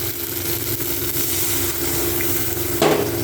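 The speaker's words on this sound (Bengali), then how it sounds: "সমস্তকে ভালো করে নাড়িয়ে কিছুক্ষণ সময় হালকা করে ভেজে নিই" Spices stirred and lightly frying in a pan for a duck egg and cabbage curry, a continuous close sizzle with a steady low hum underneath and a brief louder scrape near the end, no voices.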